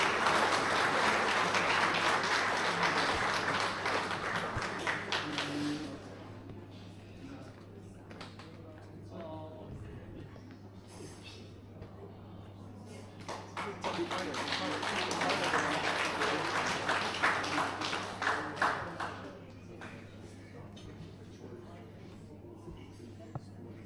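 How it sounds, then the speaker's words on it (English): Guests at a 10th anniversary gala dinner applauding, a moderate wash of clapping that fades, then swells again before tapering, with some shuffling and murmur. "please give him a big round of applause as he makes his way up"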